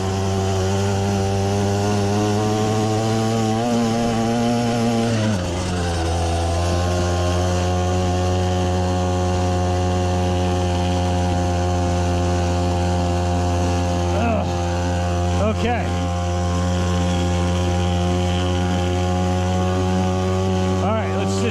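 A cheap Temu dirt bike engine screams at top speed with a high, buzzing whine, dropping in pitch briefly before holding a steady loud drone close by, with faint voices in the background.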